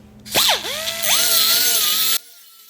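A power tool cuts out a piece during a Bass Tracker II boat rebuild, spinning up with a rising motor whine, dipping, then holding a loud, steady high-pitched cutting drone for about two seconds before abruptly stopping.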